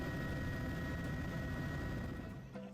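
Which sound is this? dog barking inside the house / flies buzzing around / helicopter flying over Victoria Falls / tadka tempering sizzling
helicopter flying over Victoria Falls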